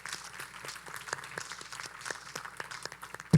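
Applause breaks out for a couple at a youth ministry church service, with a steady, moderately distant crowd of clapping hands and no talk.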